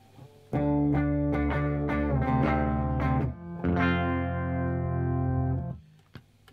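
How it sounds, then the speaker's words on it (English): Clean electric guitar on the bridge pickup with a bright, twangy tone plays a run of plucked notes and ringing chords, then lets a final chord sustain and fade. "here's the clean sound. This is the bridge pickup."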